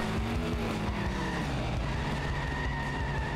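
A car in The Simpsons Hit & Run on PS2 revs hard and skids, with a loud, continuous engine whine climbing and shifting pitch under screeching tires, no voices present.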